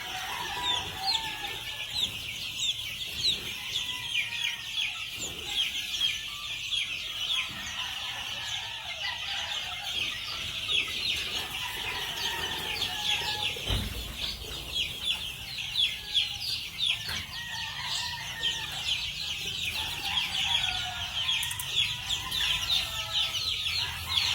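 Chickens on a gamefowl farm cluck steadily and roosters crow at intervals through a morning chorus, a dense continuous layer of fowl calls at moderate distance with no speech.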